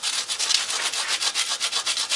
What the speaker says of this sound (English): So now we're using the fine sandpaper